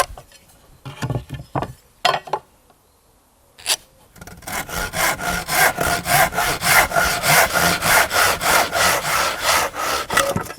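A length of timber is hand-sawn in two: a few scattered knocks and taps come first, then a run of steady, rhythmic back-and-forth saw strokes, loud and close.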